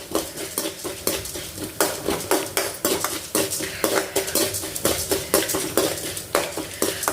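Mustard seeds, urad dal and chana dal being tempered over medium flame in a pan for jeera rice, with rhythmic metal scraping and clinking of a spoon stirring continuously over a faint sizzle.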